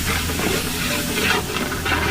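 Garlic frying with onions in a pan for Odia chicken dalma gives off a steady, close, loud sizzle and hiss that carries on without a break.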